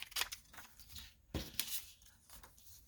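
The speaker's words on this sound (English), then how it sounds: "I'm just going to give this a trim" Scissors snip through journal paper in several quick, faint cuts spaced irregularly, close and quiet with no talking.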